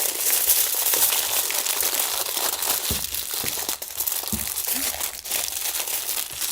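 Dried laver (gim) sheets pressed firmly by hand, giving loud, close, continuous crinkling and crackling with a few sharper crunches, no talking.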